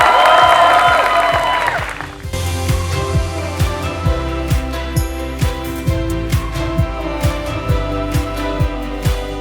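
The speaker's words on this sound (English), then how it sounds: "A big round of applause for them." A brief burst of applause and cheering from a crowd at a school gowning ceremony, fading after a couple of seconds into steady rhythmic music.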